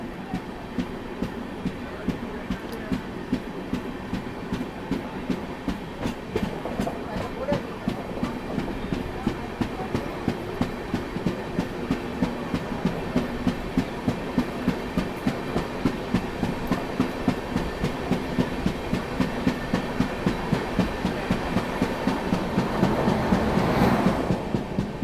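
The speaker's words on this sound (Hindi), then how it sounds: "साथ में आप लोग वैप 7 का एक्सेलरेशन भी फील कीजिए अब।" A passenger special hauled by a WAP-7 electric locomotive picks up speed on the main line, a continuous clickety-clack of wheels over rail joints quickening steadily under a loud interior rumble, heard from inside the train without talk.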